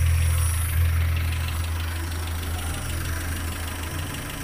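A Mitsubishi Colt SS engine idles steadily with its alternator charging under a lamp load, a low, even hum with a constant rumble close by and no talk.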